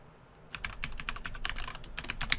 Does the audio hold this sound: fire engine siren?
no